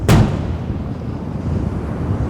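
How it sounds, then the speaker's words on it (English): A heavy, stiff old iron door knocker drops against a door with one loud, booming thud that rolls off into a long, low rumbling decay. "He let it fall, and it startled him with its booming loudness."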